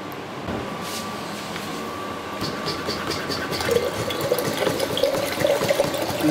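Water is poured into a cooking pot while making gyuvetch, a soft splashing trickle building in the latter half, with faint mechanical clicking and background noise beneath.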